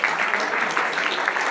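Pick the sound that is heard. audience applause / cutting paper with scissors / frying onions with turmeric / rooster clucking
audience applause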